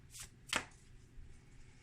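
Large cards are shuffled by hand in two quick, close, papery riffles with a quiet pause between them.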